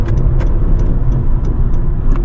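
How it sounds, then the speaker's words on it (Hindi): Interior of a car cruising along the Pacific Coast Highway, a steady loud low road and engine rumble with faint periodic ticking, no talk. "और यहाँ पर मैं गाड़ी पार्क करूंगा"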